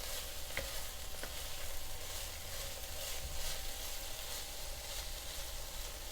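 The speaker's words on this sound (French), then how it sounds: "On a alors baissé le feu pour laisser compoter les oignons tout doucement." Onions softening in a cast-iron pot over low heat for boeuf bourguignon, a faint, steady sizzle with soft crackles and an occasional light stir, continuous and unhurried.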